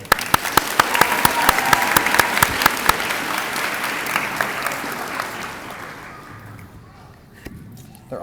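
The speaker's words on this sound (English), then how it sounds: "round of applause" An audience at an 8th grade middle school recognition ceremony breaks into loud, dense clapping, sustained for several seconds before it thins out and fades, with a few sharp claps standing out near the start.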